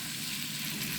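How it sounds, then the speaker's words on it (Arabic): Minced meat kefta frying in a pan with onion and garlic gives a steady, close, continuous sizzle with a dense hiss throughout and no talking. "غادي نخلي حتى تبدا تحمر ليا الكفته"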